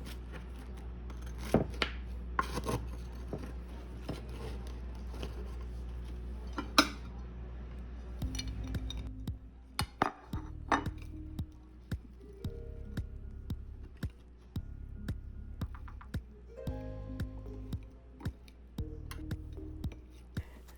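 Knife and cutlery clinking against plates while cutting and serving a Huguenot torte, a layered Charleston cake, with scattered sharp taps and scrapes over a low steady hum and no talk.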